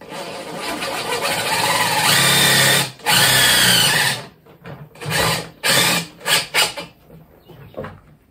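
A power drill whirs as it drives screws into a plastic bucket on a raccoon and skunk live trap, one long steady run followed by several short stop-start bursts, close and loud, with no voices.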